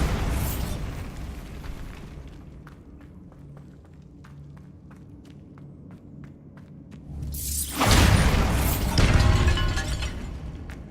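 The Bombarda spell goes off in Hogwarts Legacy, a loud booming blast with shattering debris and a rushing roar after a stretch of quieter ambience and light ticking.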